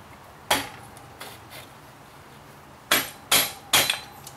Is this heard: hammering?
yes